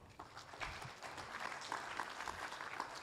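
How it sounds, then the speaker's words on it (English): Quiet applause from a conference audience at a blue economy summit, a soft, continuous patter of many hands clapping at a distance for about three seconds. "Let's give them a better clap"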